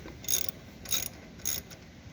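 A ratchet socket wrench loosening small bolts on a tractor carburetor during an engine restoration, heard as three short, evenly spaced bursts of ratcheting clicks, close and fairly loud with quiet gaps between them.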